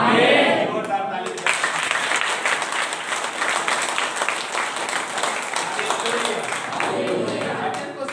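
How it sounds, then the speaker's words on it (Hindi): A church congregation at a Hindi sermon breaks into loud, sustained applause, dense clapping that swells at first and continues evenly, with a voice speaking over it. "आमीन, जोरदार ताली।"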